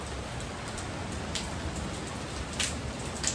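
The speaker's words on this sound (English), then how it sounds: "It's alright, it's warm rain." Warm rain falls steadily outdoors, making a soft, continuous hiss with faint scattered drops tapping nearby and no voices.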